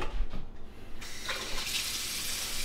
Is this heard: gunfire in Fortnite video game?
no